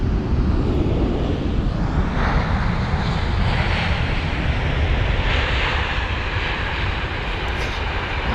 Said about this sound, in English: It is Royal Air Maroc from Casablanca with the 787-8 Dreamliner this time.